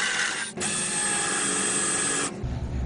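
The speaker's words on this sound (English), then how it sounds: "You gotta love these step drills." A step drill bores through metal while fabricating a mini-truck front hitch receiver, a loud, steady high whine that breaks briefly, resumes and runs for nearly two seconds before cutting off.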